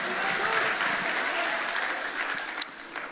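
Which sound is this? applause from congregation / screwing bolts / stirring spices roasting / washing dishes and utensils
applause from congregation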